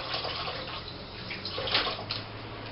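Spring onions rinsed under a running kitchen tap, a steady close stream of water splashing over the stalks for a few seconds with brief louder splashes as they are turned, no talking.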